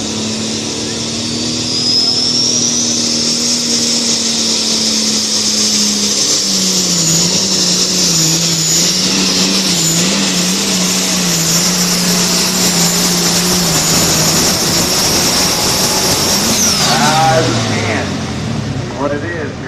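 Engine of a pulling vehicle roaring loud and steady at a Grassy Fork VFD pull on a Saturday night, a sustained drone whose pitch wavers and shifts before dropping away near the end, with an announcer talking over it.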